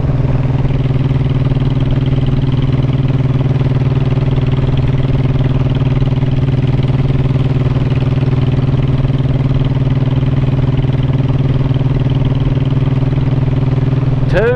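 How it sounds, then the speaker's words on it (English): A motorcycle engine hums steadily while riding, a constant loud mid-pitched drone that holds unbroken from start to end. "even riding a motorcycle for a little bit is better than nothing"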